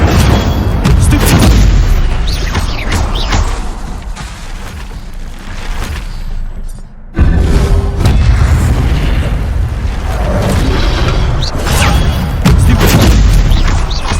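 Incendio fire spells cast during combat in Hogwarts Legacy, a dense run of booming, whooshing bursts and crackling blasts, loud and close, with a brief drop near the middle before the roaring resumes.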